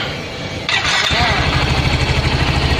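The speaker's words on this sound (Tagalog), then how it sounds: "So yung tunog nito, yun sa typical na motor." A Honda Click 125i or Yamaha Mio Soul i 125 scooter engine catches after a brief crank and settles into a steady, close rumbling idle with a quick throttle blip, voices murmuring faintly underneath.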